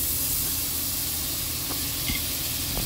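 A spoonful of butter sizzling in a hot pan while creamy chicken pasta is being cooked, a steady close hiss that holds evenly throughout with a faint click near the end.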